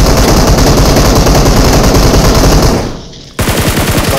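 A DBS gun fires in a shooting video game, loud and close in a dense, rapid automatic stream that dips briefly and then resumes with distinct hammering shots.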